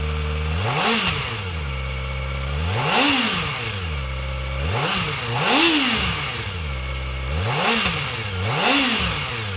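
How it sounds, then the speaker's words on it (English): A 2024 Kawasaki Ninja ZX-4RR 400cc engine revs repeatedly, climbing and dropping in about four sharp, loud swells with brief crackles between, alone and close. "take a listen to how the ZX4RR sounds"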